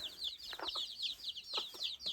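Young chickens, including several white cockerels, cluck and peep in a cluster of quick, soft calls, faint and close, with no talk over them.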